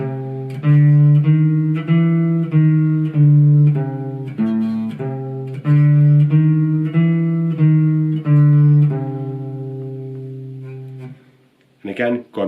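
Electric guitar playing a lead riff in steady time, a repeating pattern of clear picked single notes, close and loud, ending on a held note before a brief voice starts at the end.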